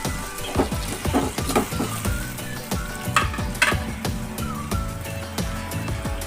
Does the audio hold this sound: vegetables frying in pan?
yes